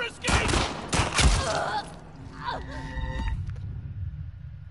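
Gunfire in the video game The Last of Us Part 2, a rapid cluster of loud shots at the start followed by quieter game effects and a low rumble, with a voice briefly heard over it.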